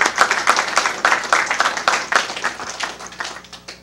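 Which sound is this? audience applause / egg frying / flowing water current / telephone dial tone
audience applause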